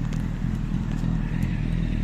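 A Honda PCX 125cc scooter-style motorcycle runs steadily nearby, its low engine drone holding an even, continuous level for about two seconds without clear revving.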